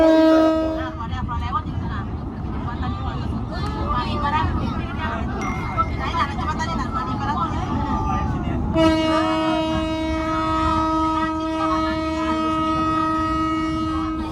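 A passenger train rumbles and clatters along steadily while arriving at Tebing Tinggi station, then a long loud horn blast sounds near the end over ongoing mechanical noise.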